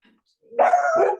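A single dog bark during a planning commission meeting held over a call, one short loud close yelp-like bark rising out of silence and cutting off quickly.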